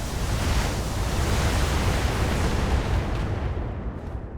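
Thunderbolt missile barrage in a video game at a beach, a dense, continuous roar of rumbling explosions blending into a broad wall of noise that holds steady and tapers off slightly at the end.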